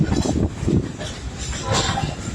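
An open-air train rolls along with a steady rumble and rattling clatter of wheels and cars, heard close and continuous.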